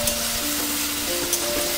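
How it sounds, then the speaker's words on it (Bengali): Ginger, garlic, tomato and onion fry in a pan for a Bengali rohu fish curry, giving a steady, even sizzle with light stirring, close and fairly quiet, with no voices. "আদা রসুন টমেটো পেঁয়াজ সব কিছুকে আবারও খুব ভালোভাবে ভেজে নেব"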